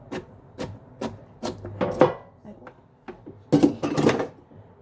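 A kitchen knife cuts vegetables into thin julienne strips on a board, with a run of quick separate strokes followed by a denser burst of rapid cutting, close and clear.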